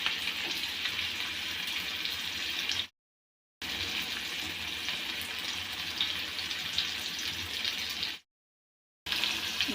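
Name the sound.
onion and tomato frying in a pan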